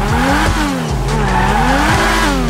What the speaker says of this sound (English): This is an R34 GTR 1999 version.